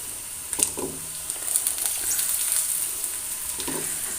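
Grated coconut frying in two spoons of coconut oil for a yam theeyal, a steady close sizzle with a few brief stirring scrapes and clatters, no talking.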